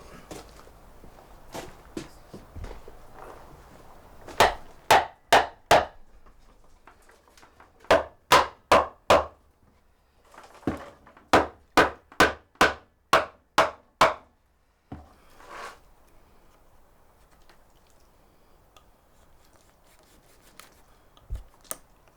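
A hammer strikes wood in sharp, evenly spaced blows, coming in several bursts of four to six hits with pauses between them, close and loud over a quiet room.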